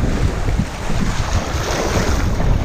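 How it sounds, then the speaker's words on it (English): Ocean waves colliding and churning on a beach in Morotai, a loud continuous rush of surf mixed with heavy wind buffeting the microphone, with no talking. "It's just a bunch of waves right now that's colliding in the middle."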